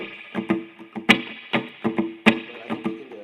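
Electric guitar is played over a loop with reverb, rhythmic plucked hits repeating every half second or so, with ringing sustained tones between them.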